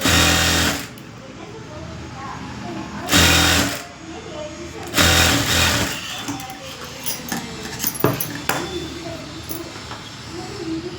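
An electric sewing machine stitches a narrow strip onto a princess-cut blouse in three loud whirring bursts, separated by quieter handling noise, while someone talks over and between the runs.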